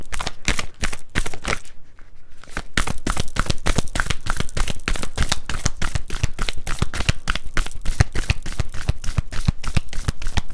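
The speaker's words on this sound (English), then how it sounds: "I want one more card." Tarot cards are shuffled by hand in rapid, crisp riffling bursts close up, continuing almost without pause apart from a brief gap near the start.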